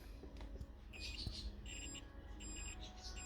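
A multimeter set to continuity mode beeps in short high tones, checking wiring while fitting a universal central locking kit to a Golf 4 or Bora; the beeps are faint against low rumble and handling noise.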